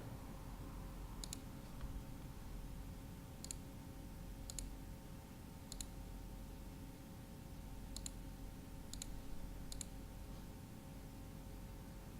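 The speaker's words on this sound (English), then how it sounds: "that's me right-clicking on the icon on the taskbar" A computer mouse clicking on a PC, a sparse series of about seven short, sharp clicks spaced irregularly over a faint steady background hum.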